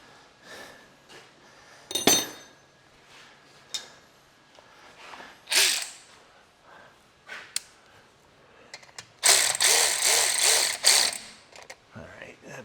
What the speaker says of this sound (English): You just tighten this one up too now.